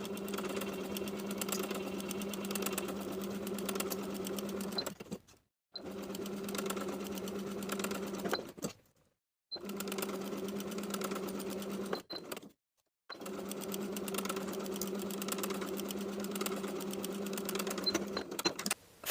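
A sewing machine hums in long steady runs, sewing a 2.5mm straight stitch along knit T-shirt sleeves, stopping three times with short silent gaps between the runs.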